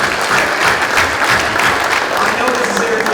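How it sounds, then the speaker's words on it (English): Loud, dense audience applause fills a leadership event in Nashville, continuous clapping with a murmur of crowd voices underneath. "Give yourselves a round of applause."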